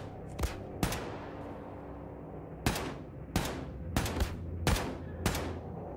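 Gunfire in Wolfenstein II: The New Colossus: loud, close shots crack out irregularly, some singly and some in quick pairs, each with a short ringing tail.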